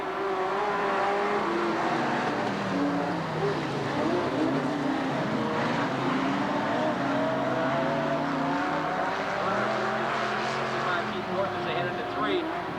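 Late model sportsman race cars roar through the opening lap of a ten-lap heat, engines loud and continuous with rising and falling pitches as the pack circles, while an announcer talks over the racing.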